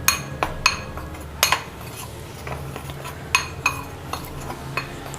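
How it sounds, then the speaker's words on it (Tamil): A spoon mixing cornflour, chilli powder and salt in a bowl, giving repeated sharp clinks and scrapes against the bowl in an irregular rhythm, close and fairly quiet. "இப்போ நம்ம நல்லா மிக்ஸ் பண்ணிடலாம்."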